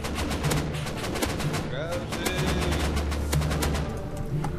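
Rapid automatic gunfire rattles almost without pause in Rust as players shoot at a helicopter, the bursts dense and fairly close, with a steady engine drone beneath.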